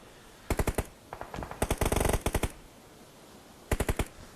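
Bursts of automatic gunfire in the battle royale game PUBG, shot from a second floor: several quick rapid-fire volleys of sharp cracks, close and loud, separated by short pauses.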